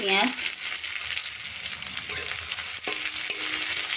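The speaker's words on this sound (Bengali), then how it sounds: "পেঁয়াজটা তেলে একটু নাড়াচাড়া করে নেব" Chopped onion fries in hot oil with whole spices, giving a loud, continuous sizzle, while occasional utensil knocks and scrapes mark the stirring.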